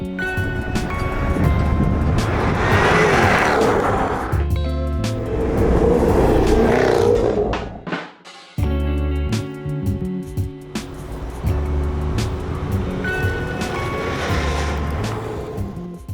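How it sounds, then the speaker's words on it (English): A 2017 Jaguar F-Type R with 550 horsepower and a loud sports exhaust drives by, its engine roaring and revving hard through several surges, dropping out briefly midway, then pulling strongly again. "Jaguar fitted it with a super loud sports exhaust"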